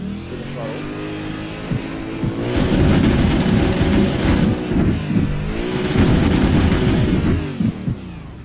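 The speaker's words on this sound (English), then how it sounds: "That's a sound we haven't had in a while, that nice rev limiter sound." A V8 Supercar in the iRacing sim bounces loudly off its rev limiter in two stuttering bursts, the engine droning steadily at idle before and between them, with crackling backfire pops at the limiter.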